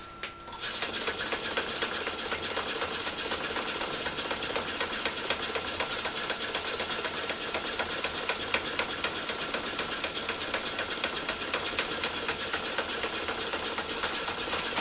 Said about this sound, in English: Turn the lathe on, do a couple of turns.